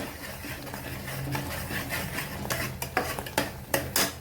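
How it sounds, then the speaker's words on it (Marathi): A spoon stirs spices and cashews roasting in hot oil in a pan, giving soft scraping strokes and scattered clinks over a faint sizzle. The strokes come in an irregular rhythm and grow busier toward the end. "तेल सुटेपर्यंत आपल्याला असं भाजून घ्यायचं आणि हलवत राहायचं."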